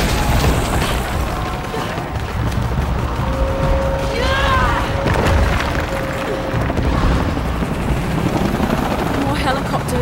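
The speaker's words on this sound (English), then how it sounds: "More helicopters." Helicopter rotors thrum beneath a dense battle soundscape in the game Shadow of the Tomb Raider, with booms and rumbling, while voices talk over radio-style chatter.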